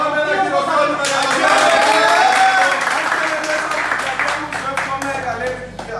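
A television game show studio audience breaks into loud, sustained applause that starts abruptly and slowly thins into scattered claps, with voices talking over it.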